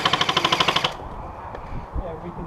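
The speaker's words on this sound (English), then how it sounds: "can just stand here and shoot bullets at you" Airsoft guns fire a fast burst of about ten evenly spaced shots during an attack-the-flag game, then stop, leaving faint outdoor movement and scattered quieter sounds.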